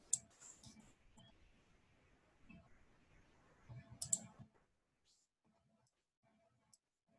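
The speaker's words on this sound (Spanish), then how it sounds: "entonces doy clic en Maya" Computer mouse clicks during 3D modeling work in Maya, a few sharp faint clicks scattered across a quiet background with low murmur, one click standing alone near the end.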